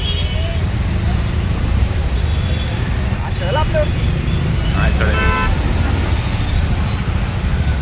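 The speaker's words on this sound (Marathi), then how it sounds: "फुल ट्रॅफिक जाम झालेलं मित्रांनो" Dense roadway rumble of idling and crawling vehicles in a traffic jam at Dapoli during the Ganpati festival, with scattered short horn toots and voices talking over the din.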